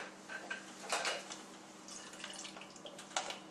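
Water trickles and drips into a container from a disconnected RO water filter line, with light clinks and splashes scattered throughout, no talking.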